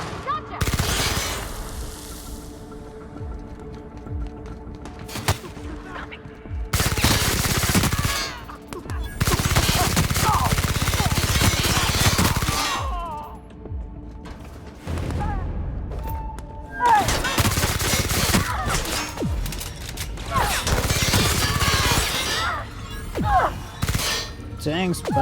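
Gunfire in the sci-fi shooter The Outer Worlds: Spacer's Choice Edition on PC; loud, close bursts of rapid automatic fire and impacts come in several long volleys separated by short pauses.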